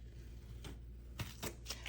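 Protective film being peeled off laser-cut acrylic from a Glowforge Plus, heard as faint, close crackling tears in a few short bursts over a low steady hum.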